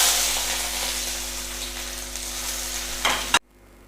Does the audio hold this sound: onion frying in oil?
yes